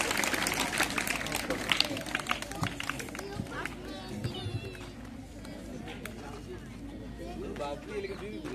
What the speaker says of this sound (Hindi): तालियां तालियां तालियां जल्दी तालियां तालियां